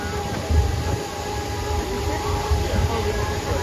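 A Sightseer Coca-Cola tram rolls along in Wildwood Crest with a continuous low rumble and engine drone, a few bumps, and a faint tonal whine on top.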